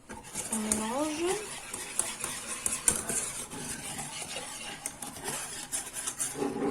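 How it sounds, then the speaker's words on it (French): A spoon scrapes and clinks while stirring custard mixture for beignets in a pot, irregular light metallic taps and swirls, with a voice speaking briefly at the start. "On mélange."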